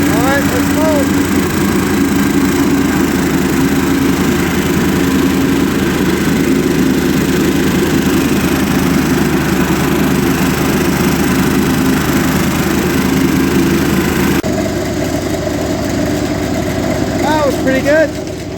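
A Ferris ProCut 61 riding mower runs with its cutting deck engaged, a loud, steady engine drone with whirring blades throughout, shifting tone near the end as it moves off.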